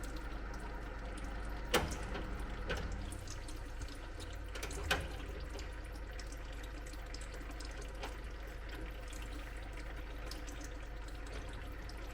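Fluid drains out of a Ford Capri 3.0 during a restoration as a faint, steady trickle, with a couple of soft drips or clinks standing out.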